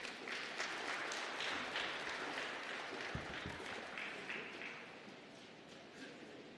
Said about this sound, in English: please give the Honourable Minister another round of applause